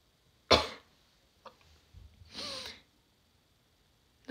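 Two separate sneezes break an otherwise quiet room: a sharp, explosive burst, then a softer, longer one about two seconds later. A faint click falls between them.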